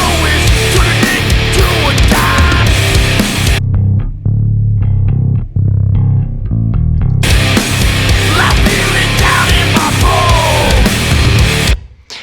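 Fingerstyle bass guitar sitting full and solid inside a live-in-one-room hardcore metal mix, loud and dense with distorted guitars and drums, the band dropping to a sparser break midway before crashing back in.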